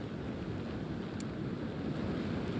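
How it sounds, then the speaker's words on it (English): Strong wind and rain lash Stewart Beach during Hurricane Nicole, a steady, dense roar of gusts and surf filling the whole stretch without letup and with no talk. "We still got some rain coming down, pretty windy."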